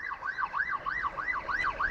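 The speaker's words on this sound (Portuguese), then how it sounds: "Infelizmente vem uma ambulância aí, e a ambulância vem com a sirene ligada" An ambulance siren wails loud and close in Venice, Italy, its pitch sweeping up and down in a steady, rapid cycle with no voices over it.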